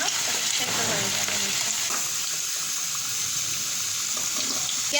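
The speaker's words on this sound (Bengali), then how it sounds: "এবার সর্ষের তেলে ভালো মতন করে সোনালি করে আলুগুলো ভেজে নেবো" Potato pieces frying golden in hot mustard oil, a steady broadband sizzle and crackle running continuously at close range, with a faint murmur of background sound but no clear talking.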